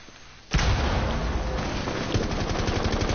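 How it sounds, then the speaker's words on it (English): Rapid automatic gunfire from a machine gun in the video game Rainbow Six Siege starts abruptly after a quiet half second and continues loud and sustained to the end. "I'm using Sledge's machine gun thingy"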